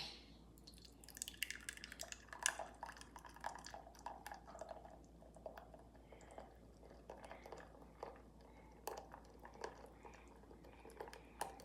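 Buttermilk, about 530 grams, poured into a bowl for fresh-milled biscuit dough: faint, close liquid trickling and dripping with small splashy ticks, steady for several seconds and no talking.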